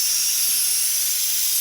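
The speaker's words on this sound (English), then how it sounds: "It's just a little Bissell steam shot." A small handheld Bissell Steam Shot steamer, used to strip window tint adhesive from a car, gives off a loud, steady hiss of escaping steam, close and continuous with no talk.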